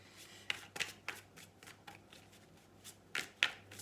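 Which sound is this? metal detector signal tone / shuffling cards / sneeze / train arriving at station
shuffling cards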